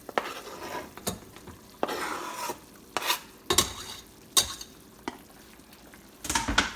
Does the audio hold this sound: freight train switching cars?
no